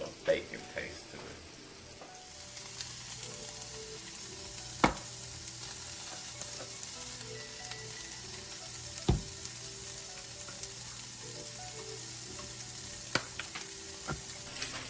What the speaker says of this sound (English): we're about to add this to the pan that we cooked the bacon in